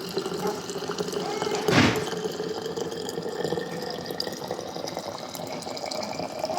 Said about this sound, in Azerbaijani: İndi isə qaynanmış suyu butulkalara əlavə edirik.